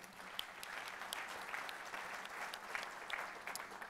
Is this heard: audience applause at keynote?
yes